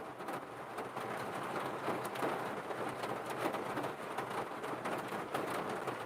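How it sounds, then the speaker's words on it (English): Rain falls steadily outside, a faint, even hiss with scattered crackling patters and no voices over it. "I was going to see if I could kind of wait out this rain"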